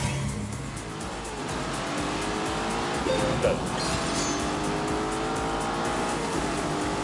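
A Lamborghini with a 4-litre V8 in The Grand Tour video game drives hard, a continuous loud engine roar with tire squeal and rising engine tones, no talk.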